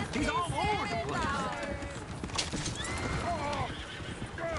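Horses neigh and whinny repeatedly amid clip-clopping hooves in the Red Dead Redemption video game, a busy, loud scene with voices talking over the animals throughout.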